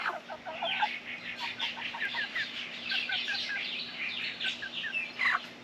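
A small flock of hens clucking and chirping close by, busy overlapping calls at moderate volume with no talking.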